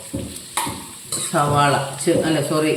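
Onion sautéed in a pan for egg curry, with a few close stirring scrapes and clinks over a steady sizzle.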